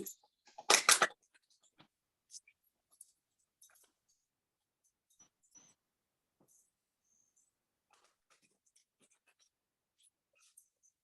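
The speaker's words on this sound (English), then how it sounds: "I'm gonna start shuffling" Tarot cards shuffled by hand give a brief, dense riffling burst near the start, then a long stretch of sparse, soft clicks and taps. The whole passage is quiet and close, with no talking.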